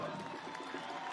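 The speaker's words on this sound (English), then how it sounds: "He'll leave to a good round of applause." A home stadium crowd applauds and cheers as a Polish international footballer leaves the pitch during a Phoenix Rising FC match against San Antonio FC, a steady wash of clapping with murmuring under a commentator's voice.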